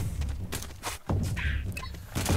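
Thumper machine in Firefall pounding the ground, heavy dull thuds repeating at a steady pace, close and solid, with game noise around them.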